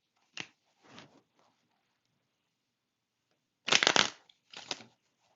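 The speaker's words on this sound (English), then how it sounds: "I'm shuffling out of these cards right now" Tarot cards being shuffled at close range in two separate bursts, each a dry riffling flutter, with a short quiet gap between the bursts and no talking.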